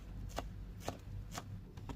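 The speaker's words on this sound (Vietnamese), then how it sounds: "bây giờ chúng ta sẽ đem đi cái phần củ hành tím á, thì chúng ta sẽ đem đi băm nó ra ha, đập dập dập trước đi rồi băm ra" Shallots being crushed and minced with a knife on a cutting board for a vegetarian braised dish, four sharp, evenly spaced chops, close and fairly quiet with a low background hum.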